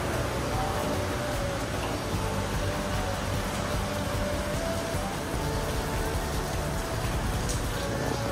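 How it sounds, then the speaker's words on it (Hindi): Steady rain falling outdoors in Jowai, Meghalaya, a constant dense hiss of drops with a low background rumble, loud and unbroken throughout. "ये है सुबह से मतलब बारिश हो रही है."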